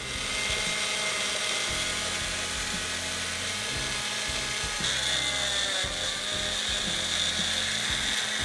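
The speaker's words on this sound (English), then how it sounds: "I blended about a minute and a half, and then I threw some more fruit in there" A blender whirring pineapple and banana into vegan ice cream, a continuous grinding motor roar with rattling, ratchety texture and a pitch shift midway, close and sustained.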